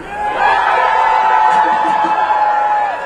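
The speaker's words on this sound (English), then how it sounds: "If you are a PPTA Hutt Valley member, give me a cheer." A large crowd of striking teachers at a joint strike rally in New Zealand cheers and whoops steadily for about three seconds, loud and close, with scattered shouts and laughter mixed into the roar.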